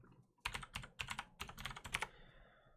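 Rapid bursts of keystrokes on a computer keyboard, typed in several quick clusters close up with brief pauses between them, no voices.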